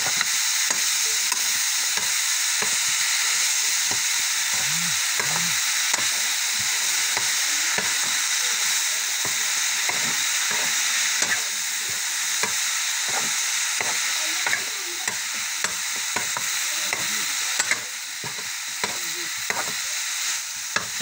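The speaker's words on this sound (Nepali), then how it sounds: "चलाउनुहोस्। यसरी नै चलाउनु पर्ने हुन्छ।" Food fries in a pan with a steady bright sizzle throughout, while repeated scraping strokes of a stirring utensil give an irregular rhythm, close and fairly loud.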